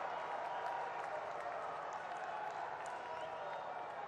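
A large crowd at a political rally in Uttarakhand applauds steadily, a dense, even wash of clapping that holds at a moderate, somewhat distant level throughout.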